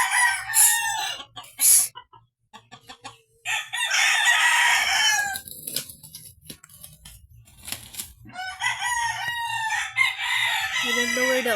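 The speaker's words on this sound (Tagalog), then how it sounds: "They are fighting. The two chickens. Their chickens are fighting." Two chickens fight with bursts of squawking, crowing-like cries and clucks, close and loud. A person speaks intermittently between the fowl calls.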